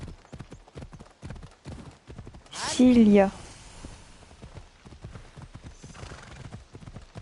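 Hoofbeats clip-clop at a steady gallop from a horse in Assassin's Creed Odyssey, broken by a loud, close neigh near the middle; someone speaks French briefly over the rhythm.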